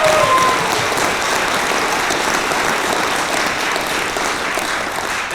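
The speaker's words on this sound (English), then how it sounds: "can I have one more round of applause for our drummer and for our band?" Audience at a spring vocal choir ensemble concert clapping steadily, dense sustained applause filling the hall throughout without pause.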